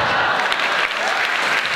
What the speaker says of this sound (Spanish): Y que no pare el aplauso para recibir al siguiente artista de la noche.